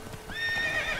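A horse in the video game The Witcher 3 gives a short, clear whinny over faint hoof clip-clops.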